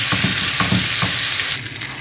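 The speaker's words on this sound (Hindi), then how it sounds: "1 मिनट तक इसको फ्राई करेंगे, इसका कच्चापन ख़त्म हो जाए।" Karhi pakora tadka sizzles steadily in hot oil, with a continuous crackling hiss and a few soft stirring scrapes near the start, close and fairly loud throughout.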